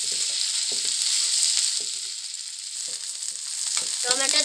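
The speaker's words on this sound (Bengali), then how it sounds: "এবার একটু নেড়ে দিব, আদা দিয়ে দিব," Ginger being stirred in a frying pan, a continuous bright sizzle broken by short scraping strokes of the spoon, close and loud, with no talking.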